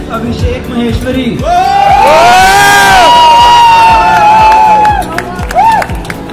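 A cooking award night audience cheers and whoops loudly in a dense, sustained roar, with shouts rising and holding before tapering off; some applause mixed in.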